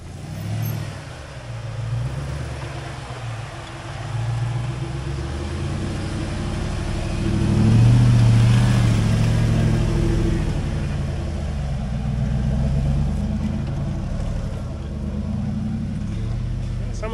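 A vehicle towing a trailer grinds over a rough off-road trail, its engine a steady low rumble that swells around the middle, with creaks and jolts underneath and occasional voices.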